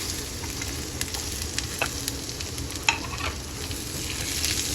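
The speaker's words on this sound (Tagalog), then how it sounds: "Magigisa na ako ng ating bawang, sibuyas at luya, pati na rin kamatis." Garlic sautéing in oil at the start of cooking mung bean stew with tofu and okra, a steady, close, bright sizzle with a few soft spoon scrapes and taps, no talking.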